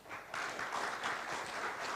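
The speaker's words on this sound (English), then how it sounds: "we give a round of applause" Conference audience applauding at an official opening, a brief, faint patter of many hands clapping, steady and distant.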